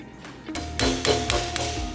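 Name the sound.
sharp hammer blow on pin punch driving out conveyor pin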